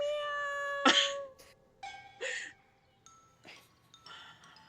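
A cat meows in a Thai drama series, with several short, separate cries spread across the clip over a quiet background and no clear talk.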